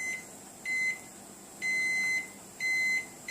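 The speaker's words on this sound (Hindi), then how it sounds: "अब इसको माइक्रोवेव के अंदर डाल के फिर से मैं बंद कर दी" A microwave oven cooking dry fruit pulao gives three evenly spaced beeps, clear and moderately close, over a faint hum with no talking.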